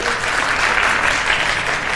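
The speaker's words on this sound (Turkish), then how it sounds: "Çok erken alkışladınız." A studio audience at a Turkish open-mic comedy show bursts into steady, loud applause, a continuous dense wash of clapping filling the room without any talk.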